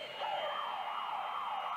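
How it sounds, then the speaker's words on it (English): An emergency exit alarm siren wails in a basketball stadium during a state championship grand final, a steady rising and falling electronic tone heard from a distance in the background. "You may hear a siren in the background. I think that's an emergency exit that's been opened."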